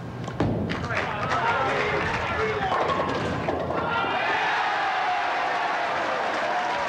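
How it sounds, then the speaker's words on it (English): Bowling ball striking pins at a 1993 PBA professional tournament in Markham, Ontario, a sharp crash followed by rattling pins, under a sportscaster's commentary and crowd noise. "Geronimo. Action of the head pin. Sideboard all the way around to the 10."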